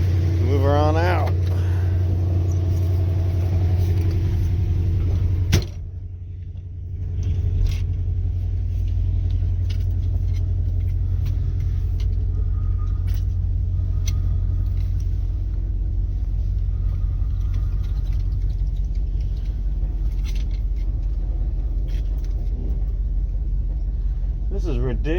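Worn-out car engine running steadily as the car is moved, a loud continuous low rumble close by that dips briefly and then carries on.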